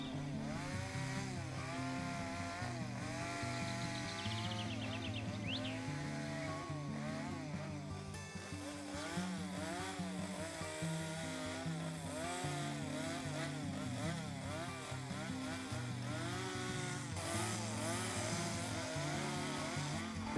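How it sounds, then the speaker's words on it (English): A chainsaw runs steadily and loudly throughout, its engine pitch rising and falling as it bites into wood, with no voices. "The chainsaw does a thing called kickback"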